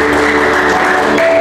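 A church congregation applauds in a steady, dense wash of clapping that holds for the whole brief moment.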